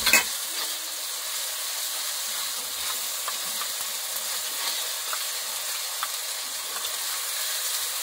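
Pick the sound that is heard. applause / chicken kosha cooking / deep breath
chicken kosha cooking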